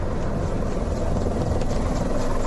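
A steady, loud Mi-24 attack helicopter roar with a dense low rumble and rotor thrum, continuous and unbroken throughout.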